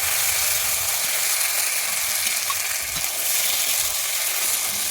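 Pointed gourd fries in its own released water with a dense, continuous hiss and sizzle, close and steady, broken only by soft stirring movements.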